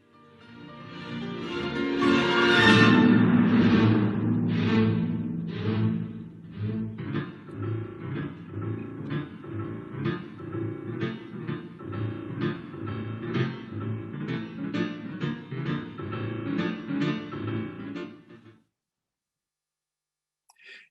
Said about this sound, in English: At number 17, we start with growls or snarls from the strings and the piano that sound like this.